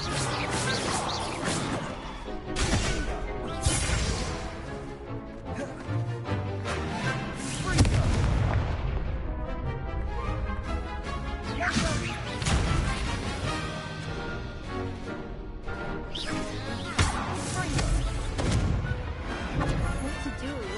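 Spell casting and magical impacts from the video game Hogwarts Legacy: dense, continuous bursts of booming blasts, crashes and whooshes, loud and busy throughout with rapid hits and swells.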